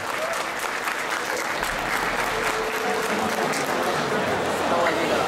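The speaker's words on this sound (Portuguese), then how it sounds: "Mais uma salva de palmas" At an anime convention panel, a large audience claps in a sustained, loud round of applause with steady density and some crowd noise, and voices are heard underneath.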